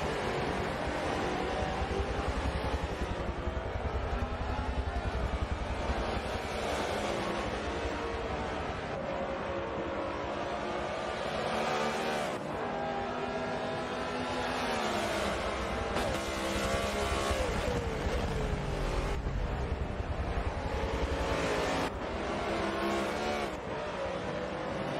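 BMW M3 race cars in a sim racing game roar continuously as a pack, their engine drone rising and falling in pitch through shifts for the whole stretch.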